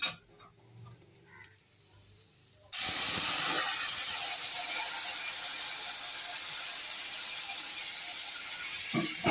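Hot water is poured into a cooking pan on a gas stove while making vegetarian sabu khichuri, giving a sudden, loud, steady hissing rush that runs on without break after a quiet start.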